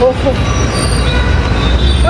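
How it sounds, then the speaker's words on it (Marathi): A metro train passes close by, a loud, continuous rumble of wheels on rails with faint squealing throughout. "जर लवकर असली ट्रेन तर मग आम्ही मेट्रोमध्ये जाऊ"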